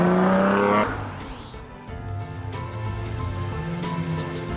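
A car accelerates hard from close by, its engine note climbing and dropping through several quick gear changes, with a brief tire squeal at the start.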